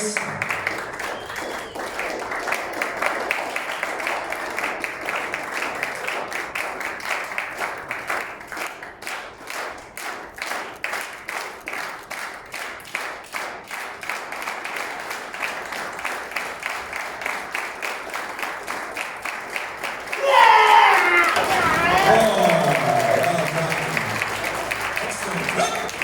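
An audience at a taekwondo belt presentation ceremony in Sunnybank claps steadily and densely for a long stretch, then breaks into a louder burst of cheering and whooping near the end.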